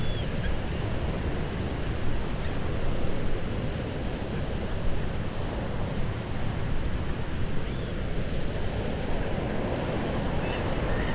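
Sea surf washing over shore rocks on a wild intertidal coast, a continuous loud roar of churning water with some wind buffeting, no voices.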